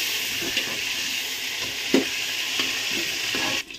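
Potatoes mixed with turmeric fry in hot oil, a loud continuous sizzle broken by a few soft scraping stirs, with no talking.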